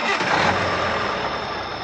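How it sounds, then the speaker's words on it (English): A truck engine turning over and catching, a dense, steady broadband rumble that holds loud and close through the short stretch with no voices. "Joe started the engine"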